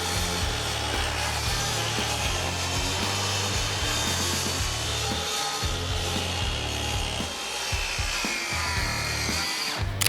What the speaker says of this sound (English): or you can use your miter saw